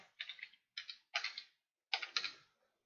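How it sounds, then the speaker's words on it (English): Quick bursts of keystrokes on a computer keyboard come in four or five separate clusters with short silent pauses between them, close and fairly quiet. "I would just hit Control F on your keyboard and type in broadband"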